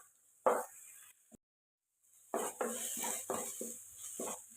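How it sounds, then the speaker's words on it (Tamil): Onion and tomato are stirred in a pan for a cauliflower gravy, with a metal utensil scraping and knocking in short bursts over a light sizzle and a brief silent gap. Close and fairly quiet, with no speech. "நல்லா சேர்ற அளவுக்கு நல்லா வதக்குங்க"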